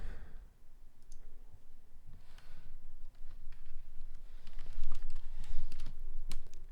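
Computer keyboard keys clicked in quick irregular bursts at close range, with sharp taps scattered throughout and growing a little busier toward the end, no voices.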